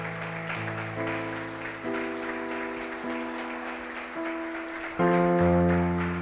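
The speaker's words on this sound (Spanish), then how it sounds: "Usted le puede dar un fuerte aplauso al Señor." Scattered clapping from a church congregation runs beneath sustained keyboard chords that shift every second or so and swell louder near the end.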